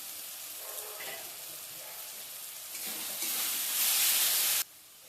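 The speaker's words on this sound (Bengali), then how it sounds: "এবার ঢাকনাটা খুলে নিচ্ছি।" A pan of Bengali fish curry masala (poa bhola fish jhal) sizzles and hisses, the frying noise swelling louder after the lid comes off, then dropping suddenly near the end.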